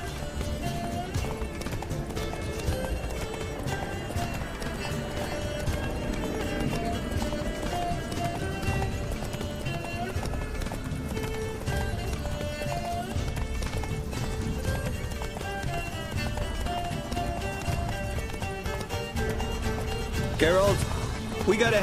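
Rhythmic hoofbeats of Geralt's horse galloping in The Witcher 3: Blood and Wine run steadily throughout, mixed with game music and occasional voices, with a brief whinny-like sound near the end.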